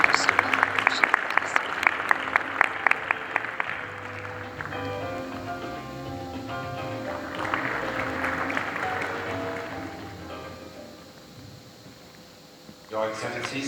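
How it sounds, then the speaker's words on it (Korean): An audience applauds to welcome the new GCF Secretary-General at an international UN climate forum in the Songdo convention centre. Dense clapping fills the opening seconds, then gives way to a sustained tonal, music-like sound with voices underneath. "사무총장님을 큰 박수로 모시도록 하겠습니다."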